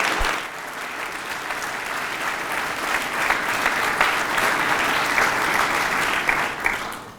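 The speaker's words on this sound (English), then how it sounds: "Please give one more round of applause to those who are involved in saving lives." Sustained applause from an audience at the Hearts & Heroes 2020 awards event, dense and loud clapping that swells slightly and holds steady for several seconds.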